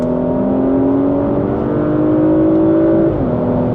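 A Porsche Macan GTS engine pulls hard under acceleration, a loud, steady rising drone with harmonics climbing in pitch before a brief dip near the end, close and sustained without talk.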